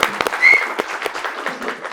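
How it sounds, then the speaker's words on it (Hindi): Brief scattered clapping from a small audience at a talk show taping, a handful of separate claps in quick succession, close and moderately loud with a faint voice behind. "अपने लिए ताली बजाओ।"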